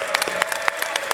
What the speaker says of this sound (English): give herself a round of applause